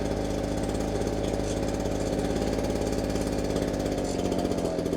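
Ryobi backpack leaf blower's small two-stroke engine idling steadily, a close, continuous low buzzing drone with a slight stutter near the end, no talking.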